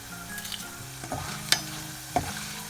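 Banana chips fry in hot oil with a steady sizzle, broken by occasional sharp scrapes and clinks of stirring.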